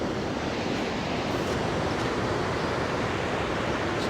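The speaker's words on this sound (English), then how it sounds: "Got a lot of water flowing, a lot of rain lately." Steady, dense roar of rushing water, loud and continuous throughout, heavy flow pouring over a dam swollen by recent rain.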